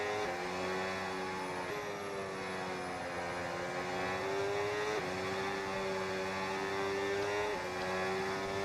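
Engine of a 2026 Formula 1 car in a racing video game, a loud continuous whine that climbs and drops with sharp shifts and lifts for corners, holding steady throughout.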